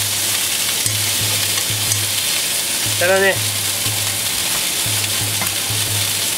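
Chicken wings for buffalo wings sizzle as they fry in a pan, a loud, steady hiss throughout, with a brief spoken phrase in the middle.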